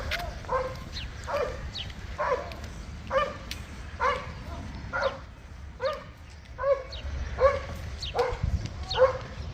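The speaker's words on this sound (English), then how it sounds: "That dog is not happy." A dog barking along the Camino Frances pilgrimage route in spring, a steady series of about a dozen evenly spaced barks, somewhat distant, over outdoor background noise.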